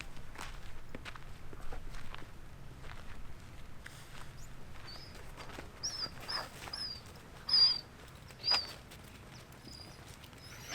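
Footsteps patter steadily on the ground as a person walks a pulling dog at a park, the steps soft and continuous, with a few faint bird chirps in the background.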